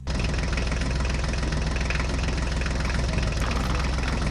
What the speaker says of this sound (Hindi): मिनी ट्रैक्टर्स को बैक कर लो।